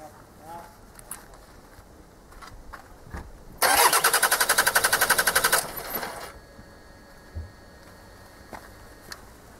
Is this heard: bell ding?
no